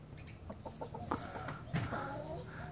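Chicken hen in a nesting box clucking in several short, faint, irregular bursts among other low farmyard sounds, fairly close.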